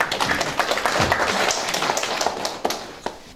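Clapping from a township town-hall audience welcoming the county governor, scattered individual claps and taps rather than a full ovation, moderately loud, with a few sharper louder claps near the end.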